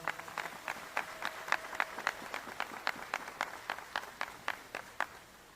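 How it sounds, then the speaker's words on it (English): Sparse applause from a small audience at a Providence key-to-the-city ceremony, with distinct rhythmic claps that sound distant and faint and come one after another at a steady pace. "Please, a big round of applause."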